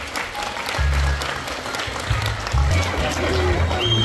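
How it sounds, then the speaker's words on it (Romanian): Applause for the host at a children's concert in a hall, a crowd clapping steadily while a loud, low amplified voice speaks over it in bursts. "Aplauze pentru gazda noastră."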